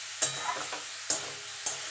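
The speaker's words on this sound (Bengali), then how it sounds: "এবার ভালো করে গ্যাসটা একটু জোরে দিয়ে এটাকে একটুখানি নাড়াচাড়া দিয়ে নেব" Grated carrots for gajar halwa are stirred in a pan over high heat: a soft steady sizzle with three sharp scraping strokes of the spoon, close and clear.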